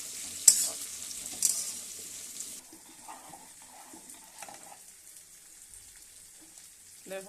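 Bitter gourd frying in a hot pan with a couple of sharp stirring clanks near the start, then the frying continues more quietly.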